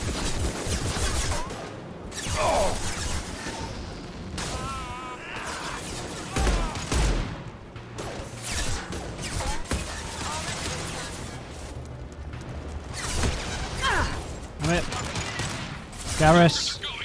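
Heavy weapon fire in a Mass Effect 2 battle against Krogan on Korlus, with bursts of blasts and impacts scattered through a busy combat mix, mixed with game sounds and occasional voices.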